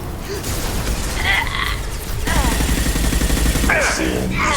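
Gunfire in Mass Effect 2 Legendary Edition, rapid bursts of automatic shots that grow denser partway through, mixed with game effects and brief voice lines over a loud continuous combat background.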